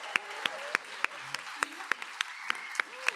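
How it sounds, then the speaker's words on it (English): Scattered applause from a small gathering at an expressive art contest celebration, a handful of distinct claps spaced out over a quiet background with faint voices. "how about a round of applause for Deb?"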